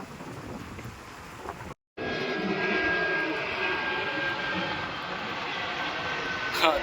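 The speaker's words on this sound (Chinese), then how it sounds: "每次有飞机飞过呢，就嗡嗡嗡嗡嗡" An airplane passes over a residential area under the approach path to Penang airport, a steady, broad engine roar that fills the air after a brief dropout and swells slightly, with wind-like noise throughout.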